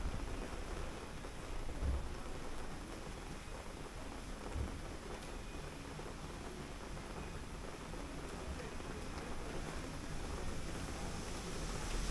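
Steady, faint hiss of rain falling in Maokong, Taiwan, continuous and even throughout, with a couple of soft low thumps.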